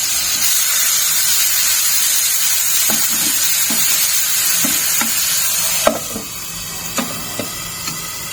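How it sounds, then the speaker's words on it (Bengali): An onion, garlic and green chilli paste fries with a loud, constant hiss and sizzle while a spoon taps and scrapes the pan now and then. The sizzle softens slightly near the end, with a few sharper clinks. "এবার দেখো মশলাটা একটু ভাজা হয়ে গেলে আমি দিয়ে দেবো আলুটা"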